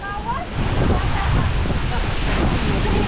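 Strong wind buffets the microphone in a loud, rumbling roar that swells after a brief softer moment and keeps blasting steadily.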